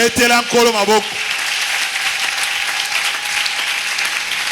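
A church congregation breaks into sustained, dense applause that fills the room, following a brief voice at the start.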